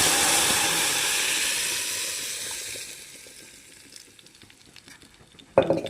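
Mashed dal hits a hot tempering of red chillies and curry leaves, a loud hissing sizzle that fades over a few seconds into quieter bubbling, ending with a sharp clatter.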